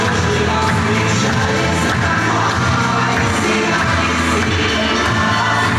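Audience at a Sochi dolphin show, where a bottlenose dolphin gives a boy a boat ride, makes a steady, dense crowd noise of applause and cheering that runs loud and unbroken for the whole stretch over music.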